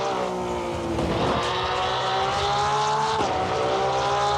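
A Porsche 992 GT3 R race car lapping Suzuka in Assetto Corsa Competizione, its engine holding a loud, steady high-revving whine that shifts pitch through gear changes and throttle, with a brief tire scrub.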